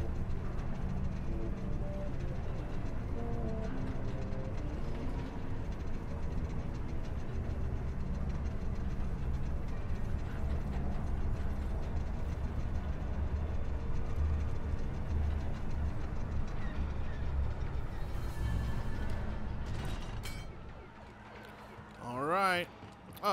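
A train rolls past in Star Wars Jedi: Survivor, a steady low rumble with faint rhythmic clatter that runs continuously before fading out near the end.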